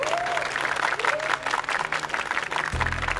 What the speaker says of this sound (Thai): ขอเสียงปรบมือให้กับน้องป๋อด้วยครับ